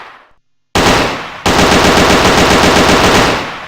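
Automatic weapon fire in a Unity 3D first-person shooter: after a short silence, a loud, rapid machine-gun burst starts, pauses for an instant, then resumes as a steady stream of close shots that slowly fades.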